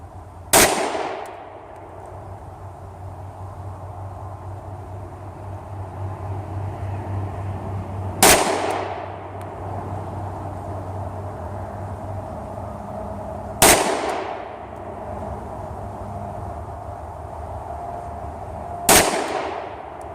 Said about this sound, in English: Now I'm shooting at 2-inch circles